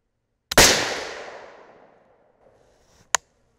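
.308 Win rifle cartridge firing after a hang fire: a faint click, then one loud close gunshot whose boom rings out and decays over about two seconds, followed by a sharp metallic clack.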